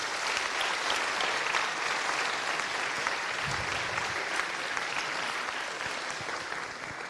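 Sustained applause from an audience of new students at a university opening ceremony on the Turin campus, a dense, even wash of many hands clapping that holds steady throughout and eases slightly at the end.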